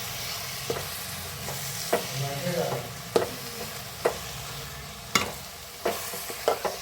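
Carrot halwa is stirred in a pan with ghee, giving a low continuous sizzle broken by sharp scraping knocks of the spoon at irregular intervals, close and alone without talk.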